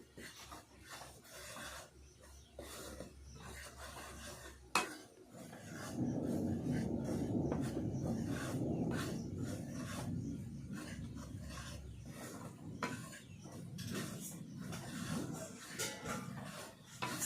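Store-bought aatop rice flour is dry-roasted and stirred in a pan, making a soft, continuous rasping scrape that swells louder and denser through the middle stretch before easing back to quieter strokes.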